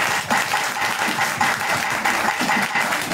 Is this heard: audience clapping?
yes